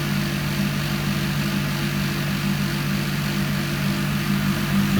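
An Indesit ISDP429 Autopump spin dryer spins at a constant speed, giving a loud, steady mechanical hum with a low drone that holds unchanged throughout.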